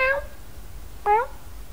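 A person imitates a cat, giving two short, high meows separated by a pause.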